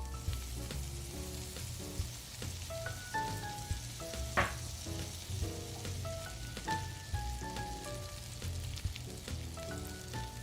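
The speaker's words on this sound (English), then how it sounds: "You want to hear that sizzling." Steady sizzling of chicken frying in a pan, with a continuous crackle and occasional clinks of a utensil, no voices.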